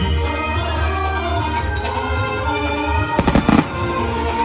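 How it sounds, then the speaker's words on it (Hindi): Firecrackers go off at a Diwali celebration at a large temple in America: a quick cluster of sharp, loud bangs near the end, following a stretch of music. "जब पटाखे बजा रहे"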